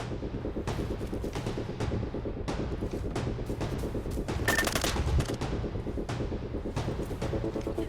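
Gunfire in the shooter video game Arena Breakout: a rapid, regular string of loud gunshots rattles on for the whole stretch over a low background rumble, with no voices.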